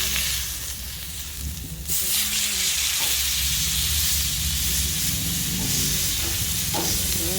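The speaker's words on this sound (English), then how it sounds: "So we're gonna sear it one side for 3 minutes and then flip it and sear the other side." Tri-tip searing on a hot grill for taco meat, a steady loud sizzle and hiss that swells after the first couple of seconds and runs continuously, with faint background noise and no talking.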